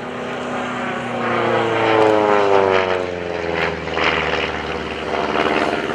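A Van's RV8 propeller airplane drones overhead at an airshow, its engine pitch sweeping as it passes close by, loud and steady with no talking.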